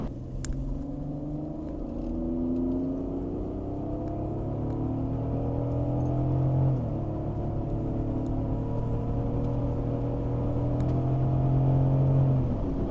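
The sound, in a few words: BMW car accelerating on a test drive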